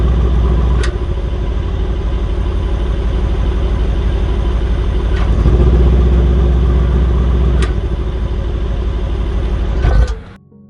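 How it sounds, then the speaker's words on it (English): A 2016 Mercedes-AMG C63 S engine: a deep, steady rumble holds at a loud idle with occasional sharp pops and ticks, then cuts off abruptly near the end. "This is a comparison between the exhaust valves open and closed in different modes."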